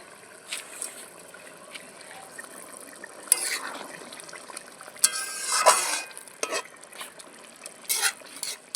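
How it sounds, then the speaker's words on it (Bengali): Paneer being stirred into a spinach curry in a pan, with scraping spoon strokes, soft sizzling and occasional clinks of utensil against the pan, in short irregular bursts. "পনিরগুলো এবার দিয়ে দিলাম।"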